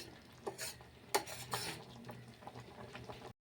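Sheer khurma being stirred in a cooking pot: quiet, intermittent scrapes and soft metallic clinks of a utensil against the pot, with no speech.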